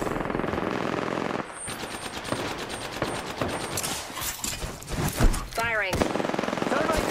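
Rapid automatic gunfire from the video game Apex Legends, dense bursts of shots over busy game effects and music, with a short whooshing sweep near the end.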